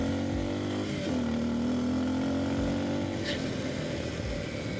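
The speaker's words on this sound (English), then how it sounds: "this motorcycle has plenty of power, plenty fast." Kawasaki KLX230S motorcycle climbing a steep gravel road, its engine droning steadily close by with a rising, revving pitch and crunchy wind-buffeted background.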